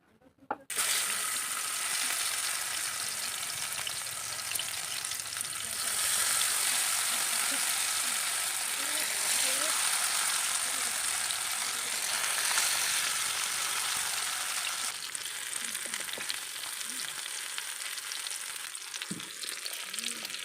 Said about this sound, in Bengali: আস্তে আস্তে এক এক করে ধরে এগুলোকে উল্টে পাল্টে একটু ভেজে নেব